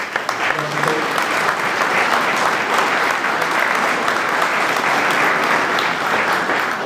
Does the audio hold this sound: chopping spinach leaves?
no